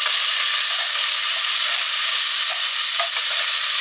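Food sautéing in a pan at home, a loud, continuous close sizzle with faint stirring scrapes and no talking.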